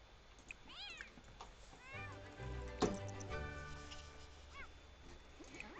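A cat in The Sims 4 meows several times, rising and falling cries near and clear over a quiet game background, with a soft thump midway.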